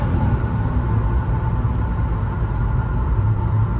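A supercharged Jaguar X308 saloon under way, a steady loud engine drone and road rumble filling the cabin with no breaks, any supercharger whine buried in the continuous noise.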